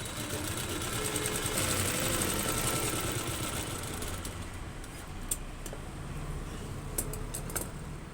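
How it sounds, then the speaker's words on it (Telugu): Sewing machine stitching a plain blouse, a fast steady whirring run that slows and stops, followed by a few light clicks and taps. "రెండేసి కుట్లు వేసుకోండి."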